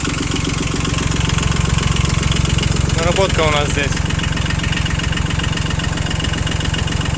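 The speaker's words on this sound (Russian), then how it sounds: "трехцилиндровый двигатель, который, как слышно, достаточно ровно и хорошо работает" A Japanese mini tractor's three-cylinder engine idles close up with a steady, even chugging rhythm, while someone speaks briefly over it.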